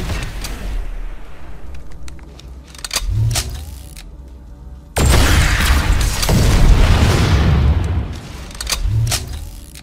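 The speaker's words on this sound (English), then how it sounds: "Switch to your rocket launcher and use it to blow up an enemy vehicle." Planetside 2 game battle where a rocket launcher blows up an enemy vehicle, with loud booms, a sudden blast and rumbling mechanical noise over a rough, dense combat bed.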